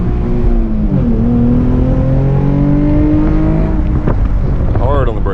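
A 2020 Chevrolet Camaro RS V6 1LE engine revving hard, pitch rising and dropping through heel-toe downshifts into first for a corner, with brief blips near the end and someone talking over it.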